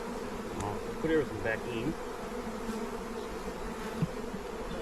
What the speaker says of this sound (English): Just see what bees we've got left over there